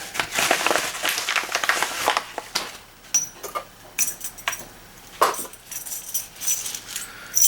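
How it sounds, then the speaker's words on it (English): A handful of metal keys is handled and jangled up close, producing bursts of bright clinking and rattling that come in irregular clusters separated by short pauses. "Well, these are cool keys."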